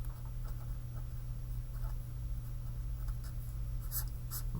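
Pen writing down calculated values on paper during a chemistry lesson, a faint steady scratching over a constant low hum, with no talking.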